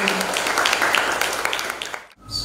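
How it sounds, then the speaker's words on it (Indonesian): Audience applause at a school event at Museum Penataran in Blitar, with junior high students attending. Dense, sustained clapping runs under a voice, then cuts off abruptly near the end. "Sekali lagi, tepuk tangan untuk kita semuanya."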